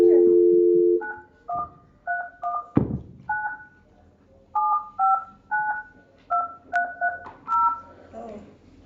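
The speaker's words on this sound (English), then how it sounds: "I dialed his number." Touch-tone telephone keypad tones dialing a number in a meeting room: about fifteen short, crisp dual-tone beeps in irregular bursts, with a brief thump partway through, fairly loud and close.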